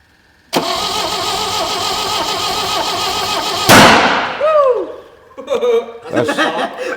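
An Austin Maxi engine, first started in 18 years, cranks and then runs loud and steady for a few seconds. It revs up and dies away, and laughter and chatter follow.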